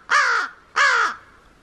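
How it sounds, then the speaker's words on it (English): Two loud, harsh bird calls in a row, each about a third of a second, close by with a short pause between them and no talk. "you go feed him and he's chirping and flapping his wings"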